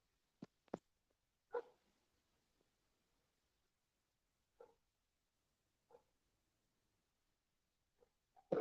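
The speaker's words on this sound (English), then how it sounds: "sounds like Steve stirring in the background" A dog stirring nearby, giving faint scattered thumps, snorts and small vocal noises spread across quiet, with a louder burst at the end.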